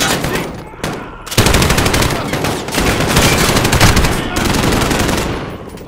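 Rapid automatic gunfire in Call of Duty: Modern Warfare, loud, dense bursts nearly unbroken across the clip with brief gaps, close and continuous.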